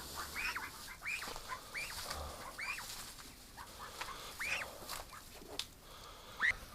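A recovering duck with sore eyes gives a run of short quiet calls spaced unevenly over several seconds, faint and close against a soft background hum, with no talking.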